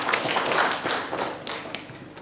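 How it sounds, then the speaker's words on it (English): Audience applause for a presenter at a university international conference session, a dense steady patter of many hands clapping with no voices over it. "Clap for Dr. Kilenji for the good presentation"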